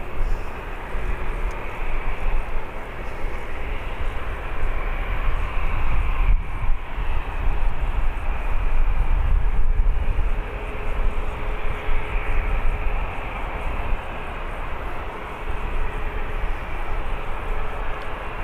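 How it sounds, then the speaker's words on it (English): An EasyJet airliner at Birmingham Airport gives a steady, loud jet engine roar with a broad rumble that swells and holds as it taxis and powers up for takeoff, with no talk over it. "EasyJet will be making its way out to Herculaneum."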